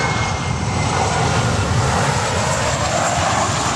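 An Eastern Air Express Boeing 737-300 passes at a Miami airport, a loud steady jet engine roar with broad rushing noise, continuous and close throughout with no speech.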